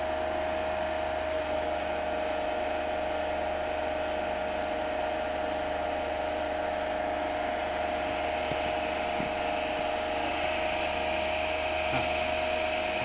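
A three-phase alternator on a lab test bench turns at a steady 1500 RPM. It gives off a constant, moderately loud electric whine and hum that holds a fixed pitch throughout, with no one talking.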